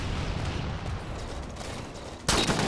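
Gunfire in a Halo 4 big-team battle, a steady rattle of shots under a dense background, then a sharper louder burst near the end.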